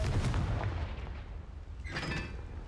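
A Confringo fire-blast spell cast in the video game Hogwarts Legacy, heard as a loud, sustained booming burst with a second sharp crackling blast near the end.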